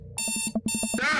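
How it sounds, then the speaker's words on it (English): An alarm clock ringing in loud, rapid electronic bursts, two close ringing stretches split by a brief gap, near and alone. "I jolt awake to the sound of my alarm."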